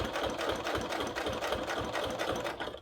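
A sewing machine stitches a fabric billfold wallet. Its steady, even whir runs almost unbroken for close to three seconds, then stops abruptly at the end.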